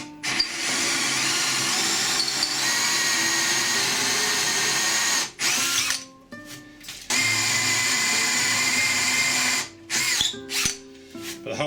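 A laser-guided power drill whines steadily for several seconds, stops, then runs again in bursts with brief pauses, loud and close, boring into wood for a stick chair.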